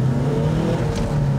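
A Porsche Turbo engine revs steadily as the clutch is eased in, a loud, close, continuous drone with a strong low hum and slight rises in pitch, with no talking.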